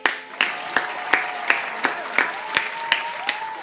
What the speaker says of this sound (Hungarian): A taps az most neki jár, Dominyel.